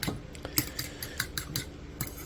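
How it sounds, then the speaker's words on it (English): A whisk or fork clinks rhythmically against a bowl while beating an egg mixture for peanut butter French toast, about eight quick taps close by and fairly quiet. "you do this mixy thing here, where you mix everything up really good"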